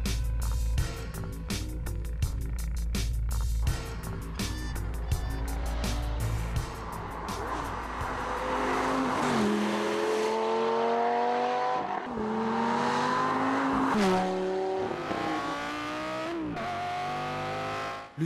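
A Lamborghini Gallardo Superleggera with its V10 engine revs hard and accelerates, loud and close, with rising harmonic sweeps as it climbs through the gears alone without voices.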